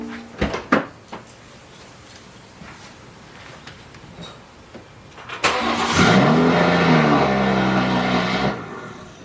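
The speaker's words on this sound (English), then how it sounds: "Start up the car, let it idle until it runs out of gas." BMW B58 engine cranks and fires after a few knocks and clicks, flaring loudly on startup and then settling into a steady, smooth idle hum close by.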